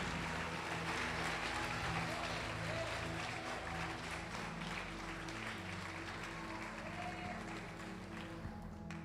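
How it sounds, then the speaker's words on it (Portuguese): A church congregation applauds in praise, a broad, steady wash of clapping from many hands that fills the room for the whole stretch, with low instrumental tones sustained underneath. "Pode aplaudir o Senhor Jesus e glorificar."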